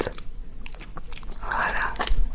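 Bites and chewing on a peanut butter snack, close and crunchy, with a denser chewing burst partway through; faint whispery voices nearby.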